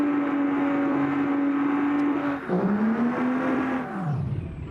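A truck with a rebuilt 1100-horsepower Cummins engine accelerates hard. The loud, rising roar drops at a gear change, climbs again, then falls away as it eases off.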